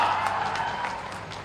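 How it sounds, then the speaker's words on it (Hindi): An audience applauds loudly in a public hall, a dense wash of clapping that holds steady and fades slightly over a short stretch. "एक बार जोरदार तालियां।"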